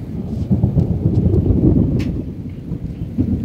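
Low rolling thunder from a lightning storm rumbles steadily and loudly throughout, with wind and rain noise on the microphone.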